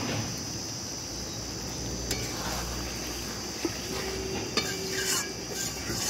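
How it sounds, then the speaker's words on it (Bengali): Garam masala paste being stirred into a cooking pot, a soft continuous scraping and faint sizzle with a few sharp clinks of the spoon against the pot, close and quiet. "এখন এই যে আমি গরম মশলা বাটাটা দিয়ে দিচ্ছি"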